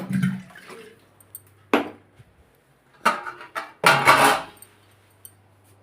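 Water pours lightly into a blender jar holding avocado, heard as a few short, close splashing bursts separated by quiet gaps, with faint clinks around them.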